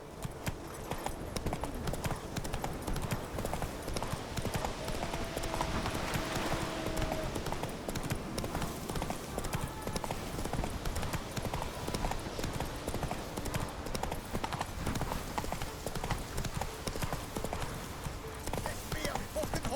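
Galloping hoofbeats of the horse Roach in the game The Witcher 3, set in Skellige, a fast, steady clip-clop rhythm running throughout with faint game ambience and occasional voices.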